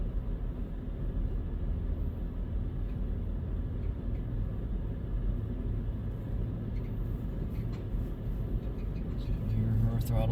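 CN 2965 freight locomotive throttling up, heard from inside the train: a continuous deep diesel rumble that holds steady and close, with a faint higher whine building near the end and a voice speaking over it.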